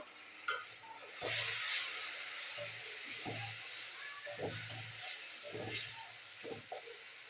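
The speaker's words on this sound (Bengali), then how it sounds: "এবার সব মশলা আমি একসাথে কষিয়ে নেবো।" Cumin and coriander spice paste frying in a pan for a mustard rui fish curry, a steady soft sizzle under intermittent stirring scrapes and low thumps, fairly quiet and close.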